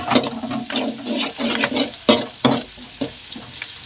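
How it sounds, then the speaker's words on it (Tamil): Ginger paste sautéing in a pan, a bright crackling sizzle broken by repeated scraping stirs and spoon knocks against the metal, close and fairly loud. "இஞ்சி பேஸ்ட்டு போட்டாச்சுங்க நல்லா வணங்குது"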